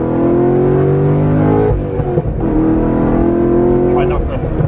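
A car on its factory exhaust with the valves open accelerates hard, its loud engine note climbing through the revs, briefly dipping at a gear change, then rising again.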